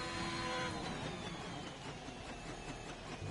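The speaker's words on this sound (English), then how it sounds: "That engine sounds horrible." A racing video game's race car engine drones steadily and roughly, its pitch sliding slowly downward across a few seconds with no talk over it.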